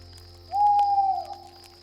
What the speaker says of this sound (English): I believe Mrs. Owl said, hoo, hoo, hoo